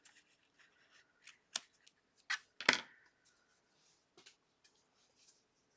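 Scissors snip through cardstock in a few sparse, sharp crisp cuts, a couple of them louder and close, separated by quiet gaps and faint rustles.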